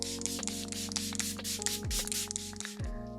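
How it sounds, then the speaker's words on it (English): Rapid bursts of Fenty Beauty makeup setting spray mist out in a quick rhythmic series of soft, close hissing puffs over a faint background hum. "we're going to lock this in with the Fenty Beauty You Mist. This is their Makeup Extending Setting Spray."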